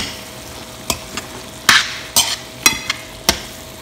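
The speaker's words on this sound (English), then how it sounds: "Now I'm going to add greens. And let it cook for a few seconds." Greens and tomato cook in a hot pan for a chana greens curry, with a soft sizzle under a series of sharp, close spatula scrapes and clanks at an irregular pace, and no voices.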